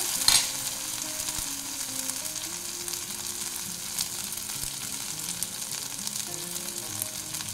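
Spices with a little turmeric fry steadily in hot oil for a bata fish curry, a continuous close crackling sizzle with faint stirring scrapes and no talk.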